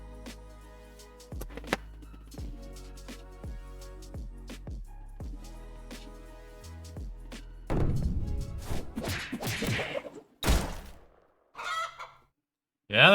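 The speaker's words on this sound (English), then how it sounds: "Yeah, that's a wild rooster." Crowing of a wild rooster in the 8-bit styled game Astro Duel II, a chiptune-like cry heard after a run of repeated thunking hits, then a burst of louder game noise.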